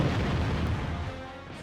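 A deep, rumbling boom of an explosion goes off in a wrestling video game, heavy in the low end and quickly fading over a short moment, with no speech.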